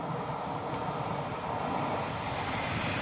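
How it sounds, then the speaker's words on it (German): A Railpool locomotive-hauled train passes on the snowy Brenner railway line near Matrei. It makes a steady, fairly loud broadband rushing rumble that stays constant, with a brighter hiss entering toward the end. "Gerade eben fuhr auch eine Railpool in die andere Richtung."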